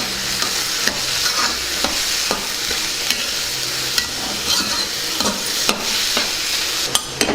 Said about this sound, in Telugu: ఇందులోనే టమాటా ముక్కలు కూడా వేసేసుకుందాం ఇప్పుడు కొద్దిగా పసుపు వేసుకుందాం అలాగే కాస్తంత ఉప్పు వేసుకుందాం దీన్ని బాగా వేగనిద్దాం